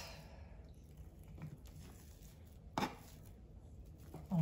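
Bread dough for Japanese milk bread cut into pieces on a board, a quiet scene with a few soft, isolated cutting thuds, one sharper knock in the middle and another at the end.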